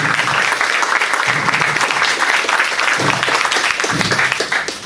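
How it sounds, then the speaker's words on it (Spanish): A crowd applauds continuously, dense and loud clapping filling the space, with a few voices mixed in underneath. "que venga Juan, y un aplauso para él también"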